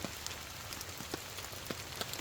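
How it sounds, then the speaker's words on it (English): Heavy rain drums steadily on an ultralight tent shelter during a thunderstorm, a dense close hiss broken by scattered louder drops hitting the fabric. "whenever this heavier rain set in"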